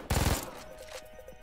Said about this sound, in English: let me shoot the guy